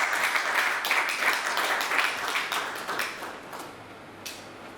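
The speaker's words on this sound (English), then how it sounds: "please can we welcome him with a round of applause" A conference audience claps to welcome a speaker to the stage, a fairly dense patter of hands that peaks early and then thins and fades over several seconds, with a few scattered late claps.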